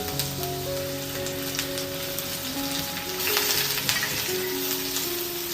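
Curry leaves sizzle in a spoonful of hot oil for a ridge gourd chutney, giving a steady, close, crackling hiss with scattered pops, while faint tonal background music plays under it.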